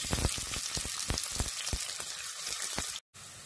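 Sliced onion fries in a pan with cumin seeds, fennel seeds, cardamom, cloves and cinnamon, a close, dense sizzle with sharp crackles and pops that drops out briefly near the end.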